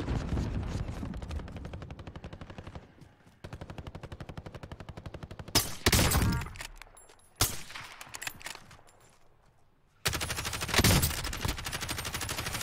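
Call of Duty Warzone gameplay fills with rapid automatic gunfire. Long machine-gun bursts are broken by brief pauses and a few sharp louder shots, all close and loud.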